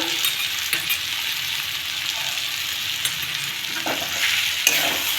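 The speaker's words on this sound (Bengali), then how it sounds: "এটা দিয়ে একটু ভাজা ভাজা করবো" Ginger paste sizzles steadily in hot oil while a utensil stirs and scrapes the pan, with occasional light clinks, close and continuous.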